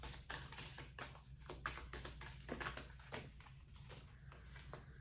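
Soft, rapid papery riffling and tapping of tarot cards being shuffled, repeated in quick bursts at close range, with a low steady hum underneath.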